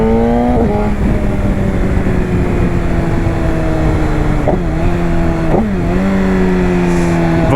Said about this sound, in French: Vraiment le son du moteur du S1000RR pour moi il est inégalable